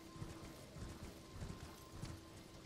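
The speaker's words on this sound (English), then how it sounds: "This guy's a shrouded horse." Horse hooves clip-clop at a steady trot in the video game Elden Ring, a shrouded horse, with a faint whinny mixed in; the hoofbeats repeat in regular clusters over a steady game ambience with no talk.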